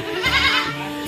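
Goats eating fodder on a farm give one short, nasal bleat lasting about a second, fairly close and clear, with no one talking.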